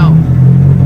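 Nissan S13 fitted with an S15 turbo engine, a loud low steady engine drone as the car idles and revs briefly, with a voice heard over it.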